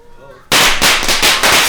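Firecrackers go off inside a hotel room in Peru during a fireworks fight, a sudden loud burst followed by a rapid string of sharp, close cracks and pops after a brief quieter moment.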